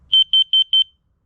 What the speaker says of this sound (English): Testing the carbon monoxide sensor.